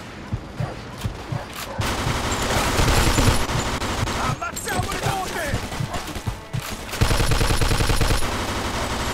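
Rapid, dense bursts of gunfire from the Mafia 2 video game, with overlapping shots and fast automatic volleys that stay loud and close throughout.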